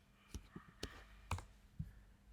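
A computer mouse clicks about five times at an uneven pace, each click sharp and close, with quiet room tone between them.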